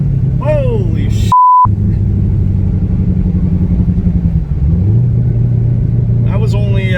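A twin turbo Corvette C6 Z06 running about 11.7 psi of boost on a drag pack pulls hard through second and into third, a loud steady engine drone close by with a short electronic beep near the start.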